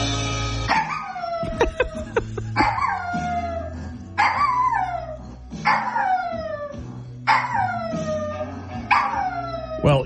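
A pet dachshund howls along to a country song, its drawn-out, wavering howls rising and falling in several repeated bursts over the music playing in the background.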